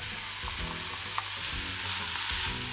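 Rice tossed into a hot pan with cooked mushrooms and pepper for Japanese omurice, frying with a steady close sizzle and soft stirring scrapes, no voices.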